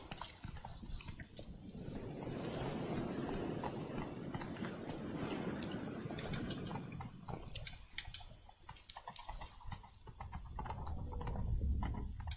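A horse gallops in The Witcher 3, a rapid, muffled hoof rhythm running continuously through the clip under a rumbling, wind-filled outdoor wash, moderately loud with no speech over it.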